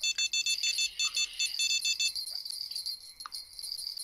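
A fishing bite alarm in the Fishing Planet video game rings as a rapid series of high electronic beeps, fairly faint, then settles into a steadier tone.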